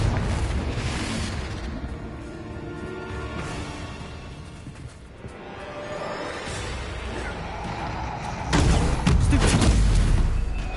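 A Confringo spell blast in the Hogwarts video game, booming explosive bursts amid ongoing combat noise, with a loud, heavy impact near the end; a voice talks in the background.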